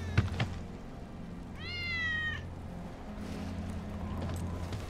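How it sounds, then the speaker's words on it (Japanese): A cat meows once, a clear rising-falling call in the Final Fantasy VII Remake game, heard alone over a low steady ambient hum with a soft thump at the start. "ウェッジの猫だ。"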